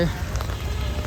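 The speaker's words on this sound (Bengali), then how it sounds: "আর নামতেছে টিপ টিপ টিপ টিপ করে বৃষ্টি" Light rain pattering steadily on surfaces at a village market in Bangladesh, a soft even hiss of drops close by with no voices.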